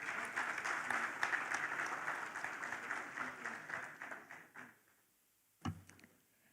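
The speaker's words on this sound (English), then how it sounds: "Please, a round of applause for him." An audience at the Africa Emerging Markets Forum applauds steadily for several seconds, then the clapping fades out, followed by a brief thump near the end.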